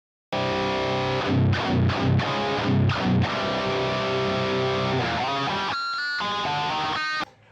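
A distorted electric guitar plays through a Marty Friedman signature SansAmp pedal. It opens with punchy, repeated chord stabs, then shifts to sustained bends and higher melodic notes, loud and alone.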